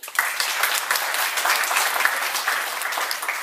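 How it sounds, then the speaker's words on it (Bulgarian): Classroom audience applauding a team captain at an open road-safety lesson in a school, steady dense clapping that starts abruptly and holds at even loudness for a few seconds, close and lively. "Аплодисменти."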